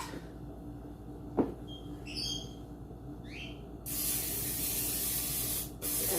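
A can of Pam cooking spray hisses in a long, steady burst as it greases a baking pan for banana bread, close and clear, preceded by a few small clicks and rattles.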